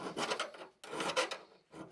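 A hedge trimmer blade is sharpened with a hand file in close, rasping strokes: one long push-and-drag, a short pause, a second stroke, then the start of a third.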